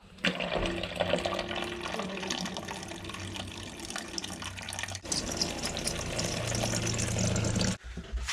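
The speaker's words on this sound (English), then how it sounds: "So I'll go and fill up more water." Steady rushing water runs continuously, like a tap pouring into a container, with a brief break near the end before it resumes.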